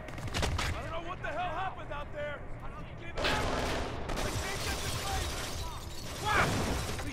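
Rapid gunfire and clattering impacts from a shooting game set in Little Tokyo, dense and loud throughout, with bursts and shattering debris layered over a busy mix, while voices shout over the action.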